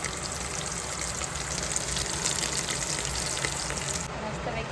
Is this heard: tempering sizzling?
yes